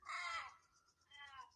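Crows call back and forth at Mt Blackheath in the Blue Mountains, Australia, with one loud rasping caw followed by a softer answering caw in quick succession.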